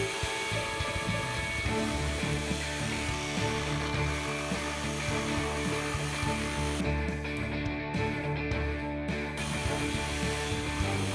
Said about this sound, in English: I use a jigsaw and do the best I can.